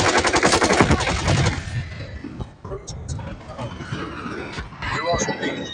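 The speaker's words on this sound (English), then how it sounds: "Hostile strafe run inbound" Rapid automatic gunfire from a strafe run in a military shooter video game, loud and dense at first, then fading into scattered shots and battlefield noise with faint voices underneath.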